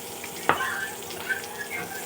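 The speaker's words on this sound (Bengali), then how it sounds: "সুন্দর করে একটু মচমচ করে ভাজতে হবে।" Pointed gourd slices frying crisp in oil, a soft continuous sizzle with one sharp scrape or clatter early on and light spatters, close by.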